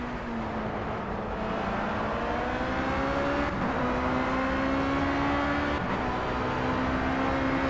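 Race car engine at Oulton Park circuit during a 50-mile race, droning loud and steady with a rising and shifting whine as the car drives through corners, close and continuous throughout.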